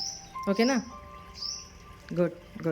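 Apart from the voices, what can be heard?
sparrows chirping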